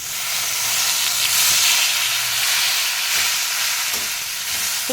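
Thoothuvalai leaves hit hot oil in a pan for a chutney, producing a loud, continuous steamy hiss and sizzle that holds steady throughout, without talk.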